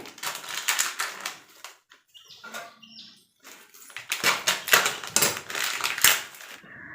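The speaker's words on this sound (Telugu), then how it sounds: "ధనియాలు అవి ఫ్రై అవ్వడానికి కొంచెం లో ఫ్లేమ్లో పెట్టి ఫ్రై చేస్తాం కదా" Coriander seeds dry-roasting in an iron pan over a low flame give close, crackly rattling and scraping in uneven bursts, with a short quieter lull in the middle and no voices.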